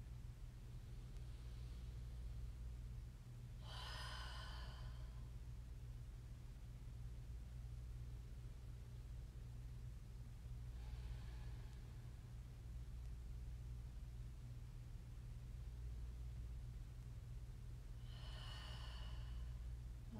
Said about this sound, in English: Take our three cleansing breaths here.